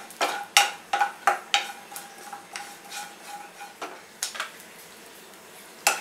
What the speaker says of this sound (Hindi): सबसे पहले हम सूखा नारियल भून लेते हैं